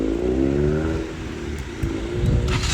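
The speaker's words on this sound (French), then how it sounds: "Voiture très sympa avec Giulia Quadrifoglio Veloce" An Alfa Romeo Giulia Quadrifoglio Veloce arriving during 24 Hours of Le Mans week, a loud close engine rumble that swells and eases, with no talk.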